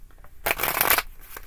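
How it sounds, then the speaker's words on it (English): Tarot cards get a quick shuffle during a reading, one short close riffle burst between soft handling sounds. "I'll shuffle those back in real quick."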